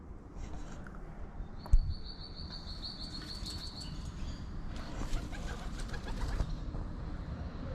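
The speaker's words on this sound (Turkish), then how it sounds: "Yalnız burada güvercinler çok tatlı." Pigeons cooing outdoors in Faro, Portugal, soft low coos under a bright chirping call, faint and continuous against street ambience and occasional light clatter.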